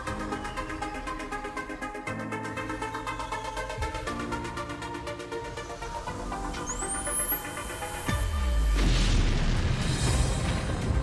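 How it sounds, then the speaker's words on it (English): A large explosion in a video game erupts as a loud, deep boom with a crackling burst that follows a stretch of throbbing, layered game music and tones. "Everyone died, because it was a bit too big of an explosion."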